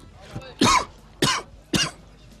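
Three sharp coughs from one person with a bad cold and sore throat, close by, each a short harsh burst, with a faint breathy sound just before them.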